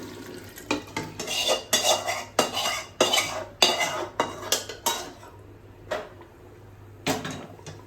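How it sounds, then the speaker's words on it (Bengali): Spiced oil from chicken biryani preparation is poured over potatoes in a pot and stirred, giving a steady run of close, rhythmic metallic scrapes and clanks of a spoon against the pot, then a few isolated knocks after a pause. "এবার আমি এই তেল মশলাটা আলুর মধ্যে ঢেলে দিচ্ছি।"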